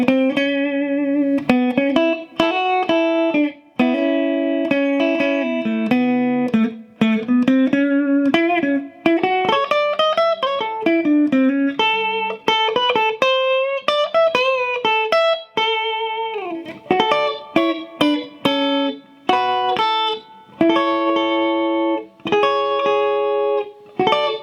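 Guitar solo from a song, a clear sequence of single picked notes and short phrases with brief pauses, played close and alone without talk.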